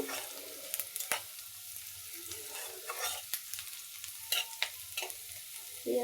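Onions frying in a pan for a taro root dish, a quiet sizzle broken by several sharp scrapes and clinks of a spatula stirring, no talking.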